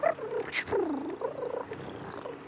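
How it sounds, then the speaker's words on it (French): A cartoon cat in an abandoned castle gives a short series of soft, close purring and mewing sounds, quiet and uneven over a couple of seconds with no talk. "Un petit chat? Qu'est-ce que tu viens faire là?"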